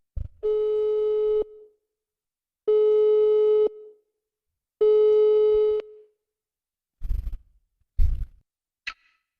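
A phone call rings out as a ringback tone: three long, loud, steady beeps with even pauses between them, then a few short clicks and knocks as the call connects.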